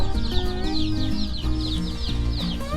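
Hens and newly hatched chicks cluck and chatter continuously close by, with overlapping calls and chirps from several birds.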